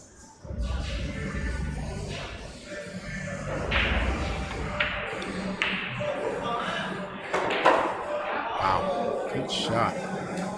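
Pool cue tips strike billiard balls during a tournament match, giving several sharp clicks and knocks spread over the stretch. Each hit is followed by balls rolling and bumping against the rails, and voices murmur in the background.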